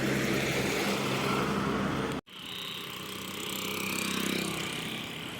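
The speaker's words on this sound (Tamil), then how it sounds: "அப்படியே நம்ம வண்டிக்கு ஆப்போசிட்டாக ஒரு வண்டி வந்து நிற்கிதுங்க." A bus engine rumbles steadily at night, pulling up and idling close by, with a brief cut partway before the low continuous drone resumes and slowly builds.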